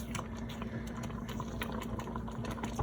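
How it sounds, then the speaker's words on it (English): Zucchini bread jam comes nearly to a boil in a pot, a dense, steady bubbling and popping with scattered small clicks, faint and continuous throughout. "It's almost boiling enough that it's not going away when I'm stirring it."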